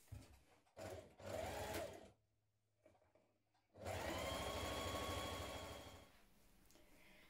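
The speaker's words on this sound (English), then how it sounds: "We're now going to stitch that with a 1 centimeter seam." A sewing machine stitches a 1 cm sleeve seam on a knit boyfriend cardigan, running in short bursts, then pausing, then a longer steady run, all close and loud with no talk.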